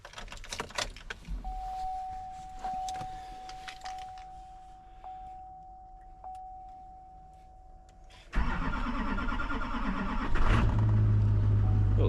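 A truck on a frosty morning: keys jangle, a chime sounds, then the engine cranks and fires up into a loud steady idle, warming up with the rumble growing.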